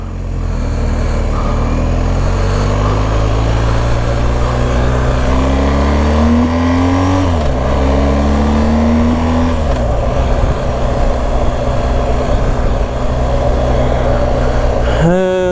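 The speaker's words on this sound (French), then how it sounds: "c'est vraiment très bizarre le moteur. Parce que c'est un bi" BMW R 1250 GS twin-cylinder motorcycle engine revving loudly and continuously, its pitch sweeping up and down through several rises and drops before a sharp burst near the end, with speech faintly underneath.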